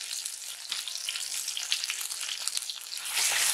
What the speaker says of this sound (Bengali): ফ্রাই করে নিচ্ছি, বা মশলাটা একটু কষিয়ে নেব।